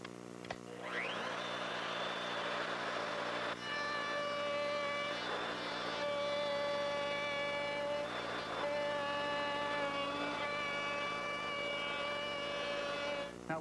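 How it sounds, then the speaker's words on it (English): A router fitted with a straight bearing bit trims excess wood along a template for a pergola, a loud sustained whine with strong harmonics broken by several brief cutting surges. "Now here's where the router comes in."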